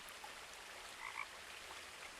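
A single faint double croak from frogs somewhere in the game world of What Remains of Edith Finch rises briefly from a low, airy background hush.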